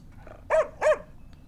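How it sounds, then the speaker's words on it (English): Two sharp video game dog barks in quick succession, fairly close and clear, with quiet background between them. "That is a dog. I spotted a dog over here."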